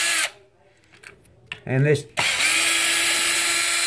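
A power drill drives the motor mount bolts on a Traxxas X-Maxx RC truck, first a short whine that ramps up, then a loud, steady high-pitched run; a voice speaks briefly before it starts.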